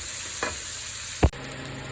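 Chopped marinated artichoke hearts and sun-dried tomatoes sizzle softly in a pan, a faint steady frying hiss broken by two brief stirring scrapes.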